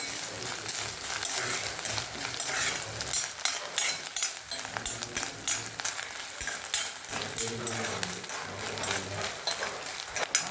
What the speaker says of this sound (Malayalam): ഇളക്കി കൊടുക്കണം, കരിഞ്ഞു പോകരുത്.